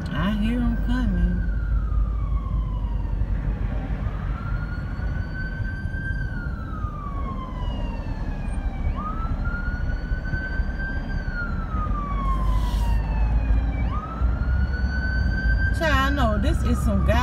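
An emergency vehicle siren wails in slow rising and falling sweeps as it approaches, loud over the rumble of road traffic, with a voice talking beneath it.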